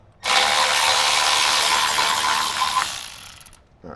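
Power ratchet spinning out a center bumper bolt on the driver's side of a new Toyota 4Runner: one loud, close, continuous buzzing whir lasting about three seconds and then stopping abruptly.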